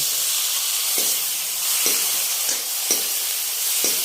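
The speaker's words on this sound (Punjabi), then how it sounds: "ਗਰਮ ਤੇਲ ਪੂਰਾ ਹੁਣ ਆਪਾਂ ਇਹਦੇ ਵਿੱਚ ਅਦਰਕ ਪਾ ਦੇਾਂਗੇ ਨਾਲ ਹੀ ਆਪਾਂ ਹਰੀ ਮਿਰਚ ਪਾ ਦੇਾਂਗੇ" Ginger, green chili and tomato fry in hot oil with a loud, steady sizzle, broken by light, regular taps from stirring roughly once a second.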